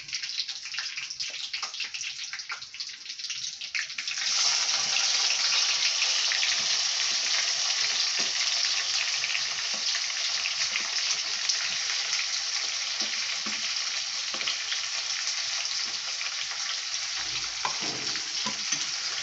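Onions fry in a pan for biryani. Light clattering gives way to a loud, steady, close sizzle that continues unbroken to the end.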